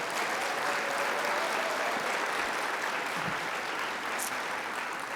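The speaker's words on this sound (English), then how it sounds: "why don't we do a round of applause for the family and friends of the people that are being honored tonight" Steady audience applause at an honor awards gala for the family and friends of honorees, a continuous blur of many hands clapping at moderate level throughout.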